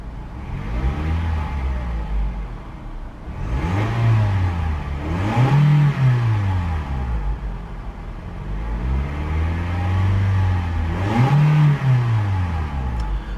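A 2015 Toyota RAV4 with a 2.0 engine idling and revving, its pitch swelling and falling in two pairs of throttle blips, steady and close with no talking.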